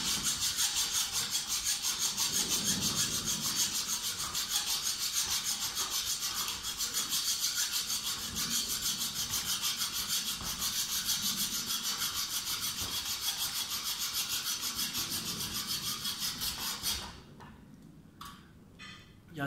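A hacksaw cutting through a metal screw with steady, vigorous back-and-forth strokes, a continuous close rasping that fades near the end with a few scattered knocks.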